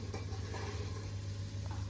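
A tadka of spices and chillies sizzles faintly in a pan, a soft steady crackle with a low hum underneath and a few light stirring touches.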